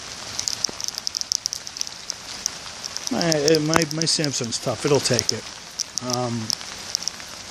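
Rain falls at night with steady hissing and frequent close droplet taps throughout, while someone talks briefly partway through.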